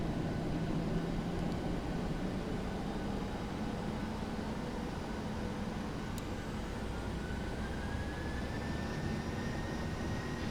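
Airliner jet engines spooling up for takeoff from inside the aircraft: a steady loud broadband roar with a faint whine that climbs in pitch toward the end, no speech.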